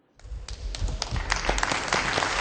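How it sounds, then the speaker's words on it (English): Applause breaks out from an audience greeting children from a vegetarian school, rising quickly from near silence into steady, fairly loud clapping with scattered sharp claps. "let's all welcome the children from the vegetarian school. with a warm round of applause"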